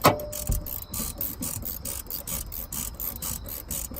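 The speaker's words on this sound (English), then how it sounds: "you want to take the ratchet wrench and you want to set it so that you can tighten it." A ratchet wrench tightening a hex nut while installing a rear gas shock absorber on the passenger side of a Honda Civic, giving a steady series of close, rapid clicking ratchet strokes with light mechanical rubbing.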